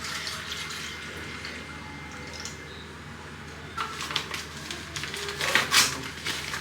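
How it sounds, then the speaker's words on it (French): Milk poured from a one-litre bottle into a mixing bowl: a soft, steady liquid trickle and splash, growing louder and more splashy toward the end. "Je viens mettre 900 g de lait."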